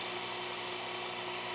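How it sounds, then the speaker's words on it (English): Spindle gouge shear-scraping the underside of a wooden bowl spinning on a lathe, a steady close rasping scrape over the motor's even hum, continuous and without pauses. "I can shear scrape with the bottom of my spindle gouge so I can get down into that detail"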